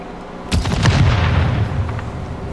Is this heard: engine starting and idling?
no